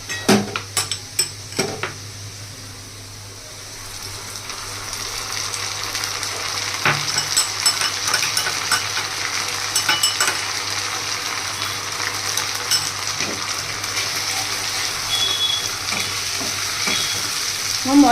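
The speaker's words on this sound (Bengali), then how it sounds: "মশলাটাকে ভালো করে কষিয়ে নিতে হবে।" Masala with ginger-garlic paste frying in a pan for egg biryani, a constant sizzle under repeated metallic scrapes and clinks of a spoon against the pan, busiest near the start and again toward the end.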